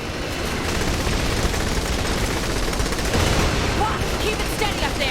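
Dense, continuous gunfire from a firefight in the video game Saints Row The Third, with rapid shots and booms layered loudly throughout and a voice briefly heard under the barrage.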